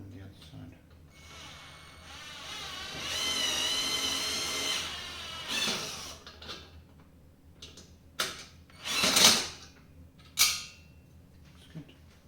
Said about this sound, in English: Drill on the other side.